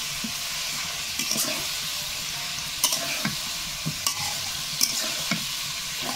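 Meat frying with a spice mix in a pan, a continuous hiss of sizzling punctuated by frequent scraping stirs and light knocks of the spoon.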